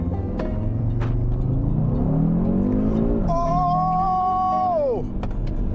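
An Audi RS Q3 quattro accelerates hard on the road. Its engine note climbs loudly through the revs, drops at a gear change and pulls again with a rising whine, close and continuous.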